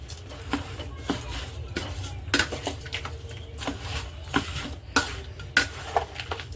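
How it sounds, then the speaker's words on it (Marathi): Jaggery and raw mango are stirred in a pot with a spoon, giving irregular clinks and scrapes of metal against the pot at close range over a low background hum, with no talking. "आता हे आपण चांगलं मिक्स करून घेऊया"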